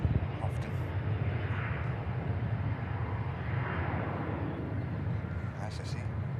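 A TAP Airbus A321neo airliner passes as a steady, broad jet roar that holds throughout, with people talking faintly over it.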